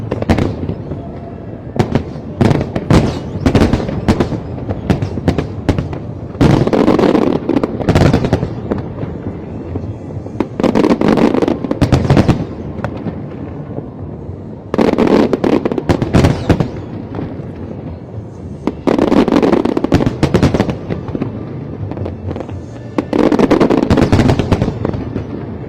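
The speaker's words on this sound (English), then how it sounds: "The fireworks never fail to impress in Hong Kong." Lunar New Year fireworks over Hong Kong boom and crackle continuously, with dense overlapping bursts and loud volleys swelling in waves, the blasts rolling and echoing across the harbour with no voices heard.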